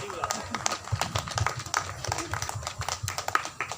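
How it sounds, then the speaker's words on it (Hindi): Clapping from an audience at a poetry event, a close, uneven run of hand claps, with a voice talking over it. "आपके लिए एक ताली की आवश्यकता है"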